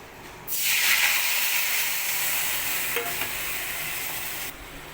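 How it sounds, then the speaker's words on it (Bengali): A paste of ground mustard, poppy seed and green chilli with rinse water hits a hot kadai, setting off a loud, sustained hiss and sizzle that lasts about four seconds before cutting off, with a faint clink partway through. "তো এই বাটিটা ধরেই আমি দিয়ে দেবো কড়াইতে"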